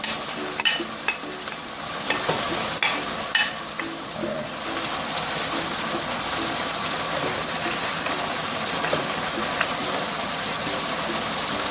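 Carrots and scallion sautéing in a pan for Jamaican-style beef liver with provisions, a steady dense sizzle with a few early stirring clatters, close and continuous, without speech.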